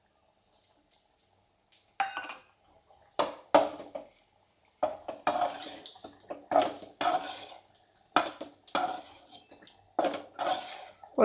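A spoon scrapes and clinks against a pan while a potato stir-fry with coconut is stirred, giving irregular metallic taps and scrapes with quiet pauses between them.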